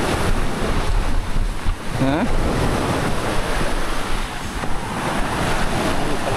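Sea waves roll in on a rough, angry sea beside a highway, producing a loud, continuous roar buffeted by wind noise, with a brief spoken word over it.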